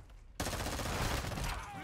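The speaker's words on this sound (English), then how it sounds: "That pistol's strong." Pistol fire in the Modern Warfare 2 beta breaks in abruptly after a brief lull, a loud dense volley of shots close up lasting over a second before easing slightly.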